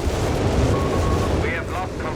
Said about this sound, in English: artillery strike called in by El Capitano, utterly annihilating a lot of Allied stuff there